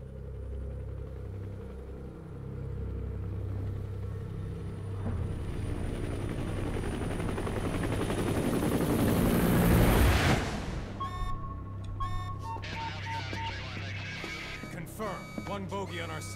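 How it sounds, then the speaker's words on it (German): An aircraft in Metal Gear Solid V rumbles with a steady, swelling engine drone that builds to a loud pass, then gives way to game music and effects, with voices talking over it. "Ein Flugzeug."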